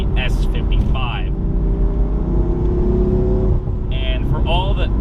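BMW M4 with Dinan S2 tune and 3-liter S55 twin-turbo straight-six revving hard toward a 7,500 RPM redline, a loud rising engine note with a steady drone through the middle under constant talk.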